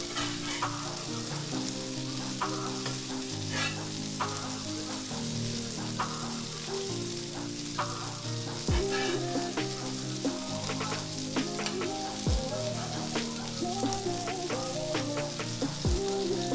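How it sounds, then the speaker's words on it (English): Bread toasting on a hot griddle for a patty melt, with a continuous sizzle and frying crackle, scattered pops and a few utensil scrapes and knocks throughout. "So once we get that first side toasted, we're gonna give our bread a flip"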